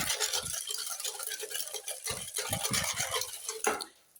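A spoon stirs sugar with a little vanilla in a bowl, giving repeated scraping, clinking strokes in an uneven rhythm, close and fairly clear with no talking.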